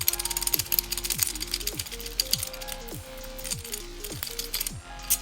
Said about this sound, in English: I can just insert the dimple rake, jiggle it around, give it a few twists